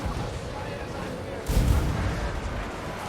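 A cannon booms in a fantasy video game battle, one heavy low thud breaking midway through a dense, steady din of combat noise, followed by a lingering rumble.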